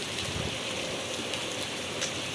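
Heavy rain pours steadily, a dense continuous hiss of drops on surfaces, close and even throughout with no voices.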